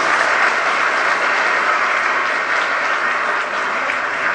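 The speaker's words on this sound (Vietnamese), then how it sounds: "Chúng ta sẽ dành một tràng vỗ tay thật lớn và thật nồng nhiệt nữa chào đón sự hiện" Loud, sustained applause from a large audience welcoming teachers at a former students' school reunion, a dense unbroken wash of clapping throughout with no talk.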